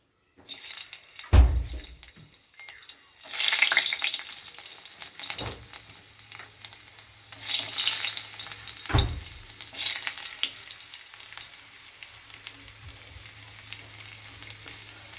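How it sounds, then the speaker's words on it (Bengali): Whole garlic cloves dropped into hot oil for tempering give off bursts of loud frying sizzle. The sizzle swells, then eases, several times, with a low thump at the start and a constant crackle between bursts. "আপাতত আমি দিচ্ছি রসুন ফোড়ন।"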